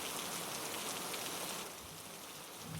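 Steady rain falling, a dense even hiss that continues unbroken and fairly faint throughout, with no voices.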